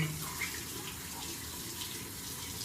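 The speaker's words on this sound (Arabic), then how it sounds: "والجهاز بغسله وبحطه على جنب" Water flows steadily from a tap as a massage device is rinsed under it, a soft, continuous splashing hiss heard up close at low volume with no talking.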